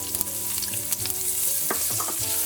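Onions frying in a pan with turmeric for rasam, pepper water: a steady, close sizzle fills the whole stretch, broken by a few light scrapes and clicks of stirring.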